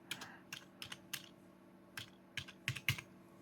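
Typing on a computer keyboard in MS Word: a quick run of soft key taps, close and fairly quiet, coming in small uneven clusters.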